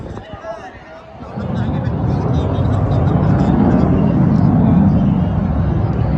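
Low-flying military jet, an F-16 or T-50 at an air force wing's Children's Day flying display, swelling into a loud steady roar overhead after people speak near the start.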